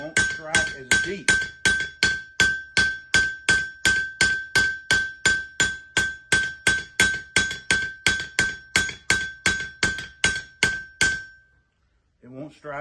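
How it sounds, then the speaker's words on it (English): Small hammer striking hot steel on an anvil while forging a Bowie knife, about thirty sharp ringing blows in a steady, even rhythm, close and loud, with a metallic ring between strikes, then a short silence at the end. "So a small hammer won't strike as deep."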